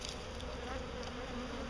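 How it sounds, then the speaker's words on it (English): A steady, dense drone of many honey bees buzzing close by, continuous and even throughout with no voices. "It's a lot of bees."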